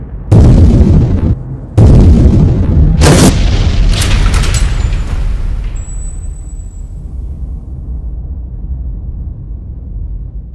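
A building blown apart by an explosion: two heavy, loud booms in quick succession followed by a long rumbling roar and debris that slowly decays over several seconds.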